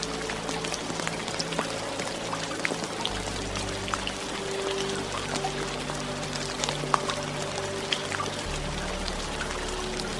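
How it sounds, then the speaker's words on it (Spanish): Steady rain falls and patters on surfaces, a soft continuous hiss dotted with scattered drips and trickles, calm and unbroken with no voices. "el sonido de la lluvia"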